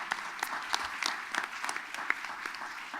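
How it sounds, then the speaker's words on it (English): Steady audience applause for a press panel fills the room, a dense patter of many hands clapping at moderate volume from start to finish with no voices over it. "Let's give a big round of applause to our panelists."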